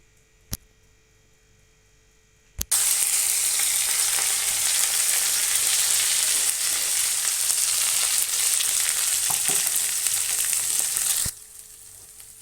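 After a couple of sharp clicks, a loud burst of sizzling oil starts as spices are tempered, holding steady for several seconds, then cuts off abruptly.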